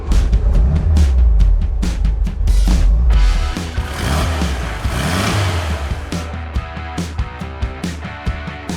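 A 1972 Volkswagen Karmann Ghia convertible with dual carburetors and a four-speed manual revs loudly and roughly with deep low rumble, then settles into a lighter, uneven running with sharp intermittent pops and knocks.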